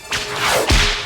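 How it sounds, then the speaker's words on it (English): Whip crack sound effect from the film Raiders of the Lost Ark: two quick swishing lashes, the second ending in a sharp snap, close and loud. "Then just 6 frames of the whip crack, as you'll notice, Satipo flinches from this sound."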